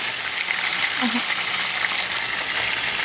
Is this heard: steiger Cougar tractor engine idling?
no